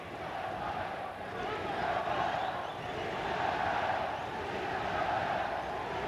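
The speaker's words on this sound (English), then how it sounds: "The crowd trying to urge Chavez on" Boxing arena crowd roaring steadily throughout round four of the Kostya Tszyu versus Julio Cesar Chavez fight, a dense, continuous wash of far-off shouting and cheering urging Chavez on, with no clear individual voices.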